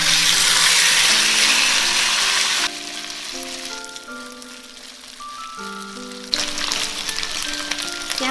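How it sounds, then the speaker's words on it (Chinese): Chicken drumettes pan-fry slowly in hot oil over low heat, giving a steady bright sizzle that is loudest at first, then sinks under soft background music before crackling up again. "把翅根倒进来，小火慢煎。"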